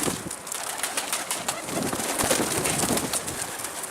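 A flock of pigeons flies off with rapid wingbeats amid soft cooing, against a hissy outdoor background.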